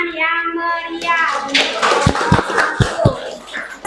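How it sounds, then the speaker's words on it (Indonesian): Children clapping in a classroom after a group presentation, a few sharp separate claps following a spoken phrase, with voices murmuring around them. "Beri tepuk tangan yang meriah."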